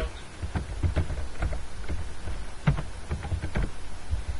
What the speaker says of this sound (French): Désolé si vous entendez les bruits de clavier.